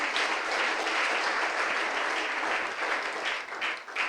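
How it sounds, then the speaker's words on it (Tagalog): A church congregation claps in a sustained burst of applause, dense and steady throughout, tapering slightly toward the end with no talk over it. "Palakpak kay Lord."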